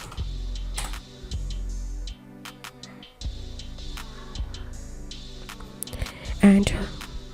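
Typing on a computer keyboard while opening a browser, a few soft scattered key clicks in a quiet setting, with a louder cluster of taps near the end.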